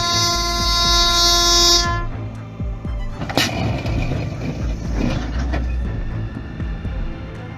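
A train rolls through a level crossing, its horn blaring loudly at first and then cutting off, followed by the heavy rumble and clatter of rail cars passing close by.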